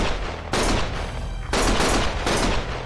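Bursts of automatic gunfire in the Lost Judgment video game, three loud sustained volleys of rapid shots in close succession with brief gaps between them.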